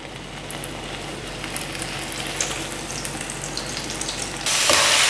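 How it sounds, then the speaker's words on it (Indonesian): Cornstarch-coated beef strips for crispy sesame beef fry in hot oil in batches, a steady close sizzle and crackle that swells louder near the end. "Kemudian kita goreng sekarang"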